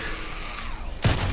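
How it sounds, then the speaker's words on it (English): A shotgun blast in the Days Gone video game comes near the end, one sudden booming report after a steady stretch of background game ambience. "the shotgun will blow off the limbs of a freaker"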